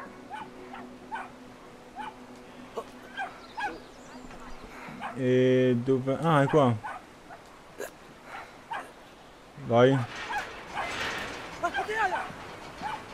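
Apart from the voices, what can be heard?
dogs barking in video game Brothers: A Tale of Two Sons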